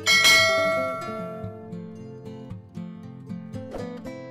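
A bright bell chime rings once loudly at the start and its tone rings on, followed by softer repeated tones that continue in a steady pattern.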